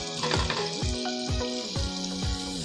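Spices such as turmeric, garam masala and chilli powder sauté in hot oil with a steady sizzle, broken by a few rhythmic spoon scrapes against the pan.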